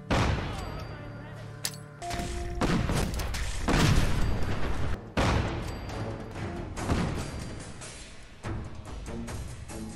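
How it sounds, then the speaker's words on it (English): A powerful modded grenade goes off among enemies in Fallout 4, setting off a rapid string of loud, booming blasts and crackling gunfire-like bursts that repeat and overlap for several seconds, close and heavy. "Let's go and see how this grenade fares when we throw some enemies at it"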